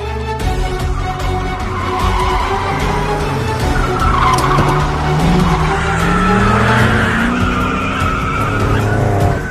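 Cars in a film chase scene tear along a road with a long, loud, continuous tire screech over revving engines, sustained throughout with no voices.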